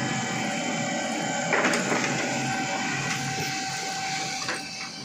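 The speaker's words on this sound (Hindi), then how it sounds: "जैसे अपन कॉपी करते हैं, प्रिंटर बहुत फास्ट है" An HP M1136 MFP laser printer runs a photocopy job, giving a steady, loud mechanical whir with brief clunks and paper-feed rattles at about 1.5 and 4.5 seconds, with no talking.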